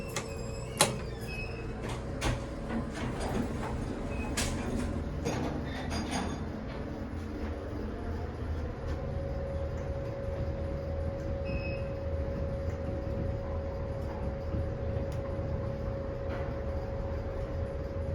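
A vintage Otis traction elevator descends four floors in an old lobby at 1101 Lake St, Oak Park, Illinois: a steady mechanical hum runs throughout, with clunks and rattles near the start and occasional faint clicks.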